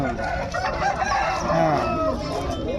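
A fighting rooster raised for Sankranthi cockfight bouts in Mydukur crows loudly and close, its drawn-out call stretching over a busy outdoor background with faint voices nearby.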